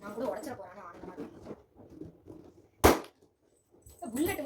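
A balloon bursts with one sharp, loud pop during a balloon blast challenge, standing out between stretches of nearby chatter and laughter.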